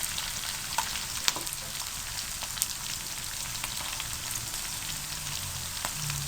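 Thick red chillies fry in a tadka for Lahori kadhi, a continuous close sizzle scattered with sharp pops and crackles and no talking.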